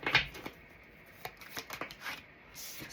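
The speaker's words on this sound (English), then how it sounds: "Shuffling." A tarot deck is shuffled with a quick riffle burst at the start, followed by scattered soft card flicks and slides, fairly close and alone without any voices.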